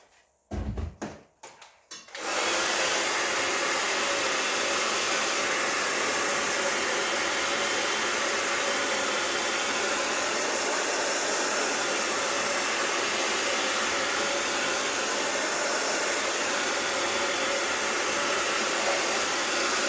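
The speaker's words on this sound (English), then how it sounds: "just blast this with a hairdryer again before we continue" A hairdryer blasting air onto a piece of artwork, starting after a few brief knocks and handling sounds, then a loud, steady, unbroken roar for the rest of the time with no talking.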